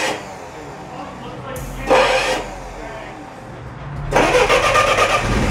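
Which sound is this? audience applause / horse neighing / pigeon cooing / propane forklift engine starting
propane forklift engine starting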